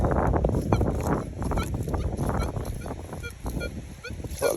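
Squawky, deep target tone from a Minelab Manticore metal detector, a warbling honk-like signal repeating through the clip amid field noise and faint talk.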